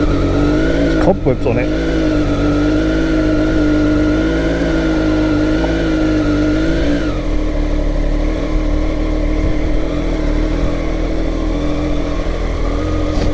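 A 2020 Triumph Street Triple 765 RS motorcycle engine catches and runs loudly, its pitch rising briefly in a rev before settling into a steady rumble, with a voice speaking over it.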